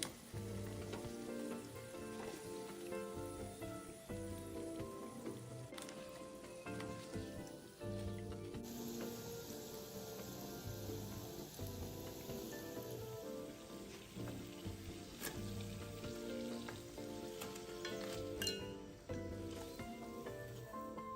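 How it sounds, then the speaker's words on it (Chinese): Cassava banana nian gao pieces fry in hot oil, giving a continuous crackling sizzle with scattered pops and bursts that holds at an even, fairly quiet level throughout. "油炸至表面微微金黄色后即可离火，油炸时长约2分钟左右。"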